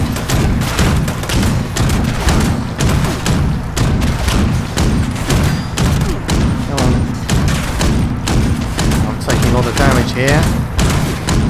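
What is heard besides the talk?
grenade explosion and gunfire in Fallout 76 video game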